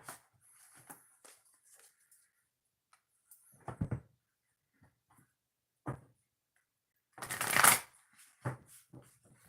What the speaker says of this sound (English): 2 shuffles before we start the bonus reading